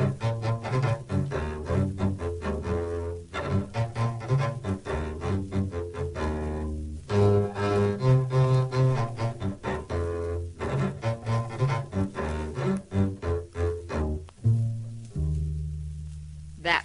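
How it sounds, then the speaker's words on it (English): A musician plays a short piece on the double bass, mixing plucked and bowed strokes in a lively run of deep notes that ends on a long held tone, with no talking. "We'd like to hear the man who plays the bass violin play a piece of music for us."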